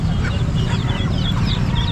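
Desi country hens cluck loudly and continuously in a crowded livestock market at Chakan, their close, overlapping clucks set against a dense low rumble of market noise.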